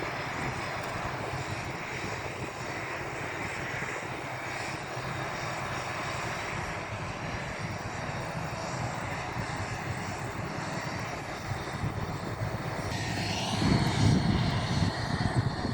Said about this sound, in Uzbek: Uchib ketgan. Katta samolyot ekan bu.